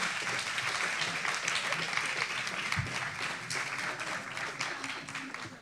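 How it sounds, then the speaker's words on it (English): Audience applause fills a school board meeting in honor of police department partners, a steady dense clapping that holds for several seconds at fairly even loudness before easing slightly at the end. "Let's give them a big round of applause."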